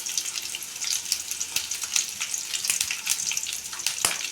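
Curry leaves and chillies sizzle and crackle in hot oil in a pan, a steady bright hiss broken by frequent sharp pops, close and constant with no voices.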